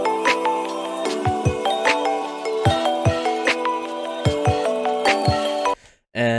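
An electronic track intro built from bright sine-like plucked synth notes over a steady drum loop with punchy low kicks, playing loud and continuous before cutting off abruptly near the end.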